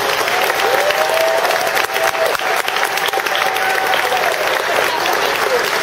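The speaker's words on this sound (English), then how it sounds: "So let's give these guys a big round of applause." An audience at a Texas level 4 and 5 gymnastics state championship meet gives sustained, dense applause that stays loud and even throughout. A voice over a loudspeaker carries faintly under the clapping.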